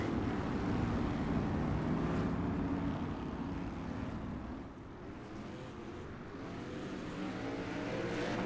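Factory stock race trucks roaring together under green flag, a dense, loud, continuous engine drone from the pack with a slight dip midway, heard at a distance with no talk.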